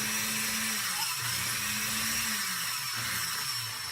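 A longarm quilting machine on an IQ frame hums and whirs as it advances, a steady motorized drone with shifting pitch under constant high-pitched electrical whine.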